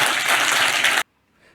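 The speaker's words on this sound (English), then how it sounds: "Big round of applause for Matt, please." A conference audience breaks into a dense burst of applause for a speaker, loud and steady for about a second before cutting off abruptly into near silence.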